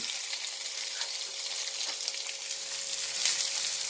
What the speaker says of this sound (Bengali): পেঁয়াজটা দিয়ে দিলাম, পেঁয়াজটা একটু ভেজে নিই